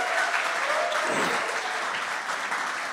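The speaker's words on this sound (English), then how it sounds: "please give a round of applause for Asim" Dense, loud applause from a conference audience at an e-commerce agency summit greets a panel of speakers, sustained and even before cutting off abruptly.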